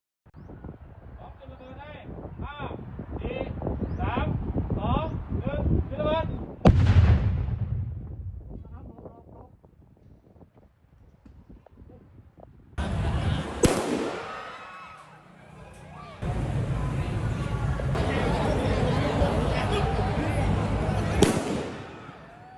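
PMN-2 anti-personnel landmines are set off by a demining machine in a Thai army demonstration, with booming blasts ringing out amid wind noise and pauses, and people speaking over parts of it.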